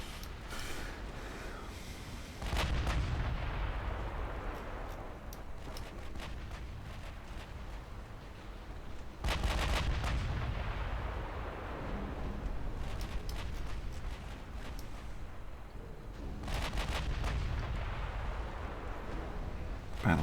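Naval battleship guns fire in a dreadnought-era video game battle, three heavy booming salvos with rumbling decay spread across the stretch, loud against a low background rumble.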